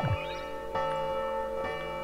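Bells ring in the video game Hauntii, a few clear struck tones with long sustained overtones, each strike followed by a shimmering decay. Fresh strikes come roughly every second, sounding close and fairly loud with no talking.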